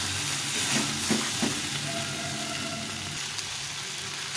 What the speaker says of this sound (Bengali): এইভাবে সবজি সবজিটাকে ভালো করে ভেজে নেব